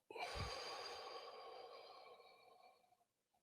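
A slow exhale during a guided breathing exercise, starting with a brief nasal snort and then trailing off as a long, steady, breathy rush of air that fades over about three seconds. The breath is close and there is no talk.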